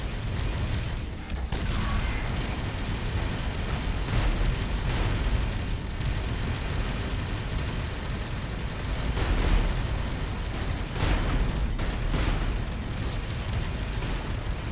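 Torpedo explosions in the space game Avorion, a steady barrage of deep booms and bursts rumbling continuously with no talk over them.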